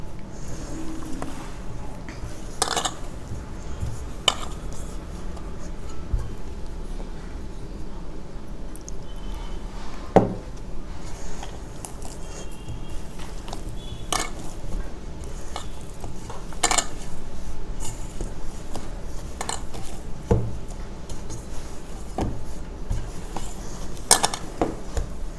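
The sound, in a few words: mixing and kneading jowar flour dough by hand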